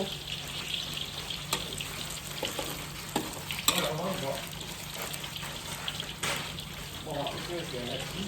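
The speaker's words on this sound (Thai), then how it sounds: "กำลังทอดนะคะ" Batter-coated snacks frying in hot oil give a constant close sizzle with scattered pops and scraping, while someone talks intermittently over the cooking.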